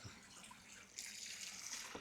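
Garden hose water pours into a small 10-gallon fountain, a faint, steady splashing and trickle that gets a bit brighter partway through, with no voices.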